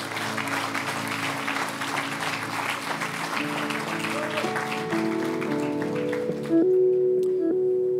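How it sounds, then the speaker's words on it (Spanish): Church congregation applauding God during a service, a steady wash of clapping across the room that tapers off as sustained organ or keyboard tones rise beneath it. "Dar un aplauso a Dios fuerte."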